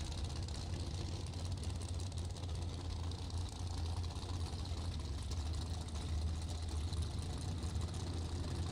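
Drag race cars, including a third-generation Camaro and an Impala, idling at the start line of a dragway, a steady low engine rumble heard from a distance, fairly faint and continuous with no talking.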